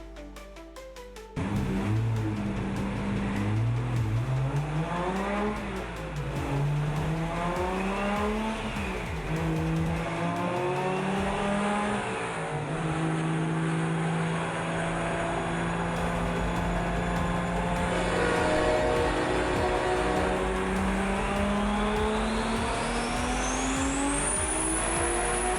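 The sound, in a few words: car speeding away with tire squeal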